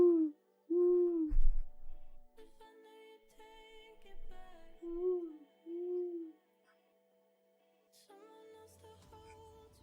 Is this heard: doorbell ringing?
no